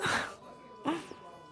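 A character's sneeze in Kingdom Come Deliverance 2, a short sharp burst of breath near the start, then a second softer vocal sound nearly a second later, close and fairly quiet.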